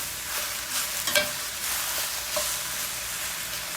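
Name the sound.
Brussels sprouts searing and sizzling in a pan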